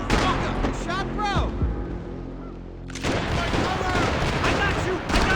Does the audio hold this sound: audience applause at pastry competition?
no